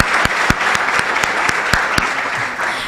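Audience at an Invent for the Planet event applauding, with sharp claps steady and close for the whole stretch and no talk over it.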